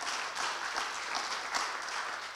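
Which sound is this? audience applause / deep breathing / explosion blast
audience applause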